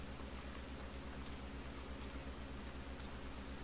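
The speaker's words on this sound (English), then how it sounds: "Oh, it's starting to rain." Steady rain falls continuously in a video game town, a dense even hiss with a low rumbling bed, with no voices over it.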